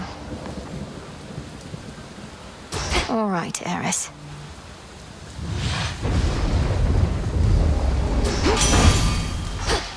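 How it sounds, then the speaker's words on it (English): Rain patters steadily in the video game Hades II while thunder rumbles and cracks in bursts, with a brief spoken line partway through. "Raining again."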